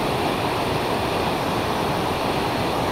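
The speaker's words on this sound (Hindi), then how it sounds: "पानी का बहाव कितना तेज़ है" Fast mountain river rushing between hills, a loud, steady broadband roar of churning water holding constant throughout with no voices.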